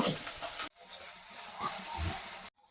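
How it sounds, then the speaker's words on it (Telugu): Onions and garlic with green chillies sizzle steadily in a hot pan, a continuous broadband hiss broken by a brief stir-pause before resuming, then cutting off near the end. "ఉల్లిగడ్డలు అందులోనే వెల్లుల్లిపాయలు కూడా వేసేసుకొని వేయించుకుందాం"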